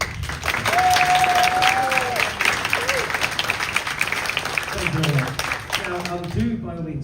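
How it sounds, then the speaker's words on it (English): Audience applause after a musical workshop performance of a Renaissance-themed musical, steady dense clapping filling about six seconds with a brief whistle early on, then thinning out as voices start to talk near the end. "So let's applaud the piece."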